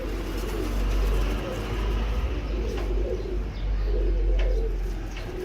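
Indian Sambal Kal Dume pigeons cooing in soft rolling bursts, several low throaty calls repeating close by over a steady background hum, with faint chirps mixed in.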